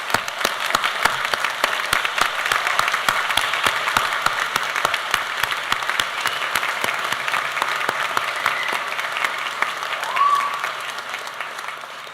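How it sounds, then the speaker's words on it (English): Sustained applause from a large commencement audience honoring graduates, a thick continuous patter of many hands that holds steady throughout, with a faint whistle or cheer rising briefly near the end. "So, round of applause for our amazing graduates."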